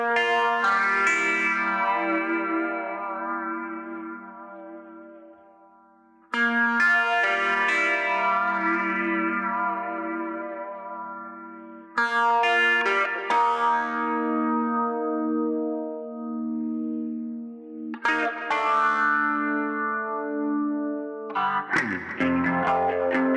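Electric guitar run through a Line 6 Helix with a signature lead tone, long sustained notes with a chorus shimmer and generous reverb tails, played in four loud phrases separated by fresh attacks.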